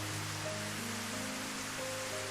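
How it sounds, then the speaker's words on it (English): Heavy rain from the visual novel Higurashi pours in a dense, steady hiss, loud and continuous throughout, with faint tonal music underneath. "The forecast said there was a chance of rain in the evening, but I didn't think it would be rain this hard."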